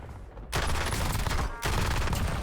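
Submachine gun fire in the Warzone video game, two long, dense bursts of rapid automatic shots, loud and close, separated by a brief break.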